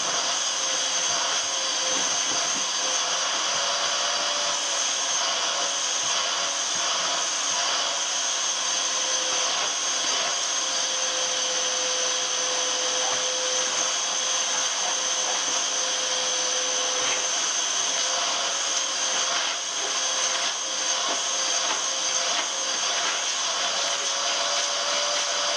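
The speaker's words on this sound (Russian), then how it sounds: "Сейчас будем пылесосить." A vacuum cleaner sucks up sawdust after expanded clay fill was poured into a floor in a village house, a steady loud whine and roar that runs unbroken for the whole stretch with no talking.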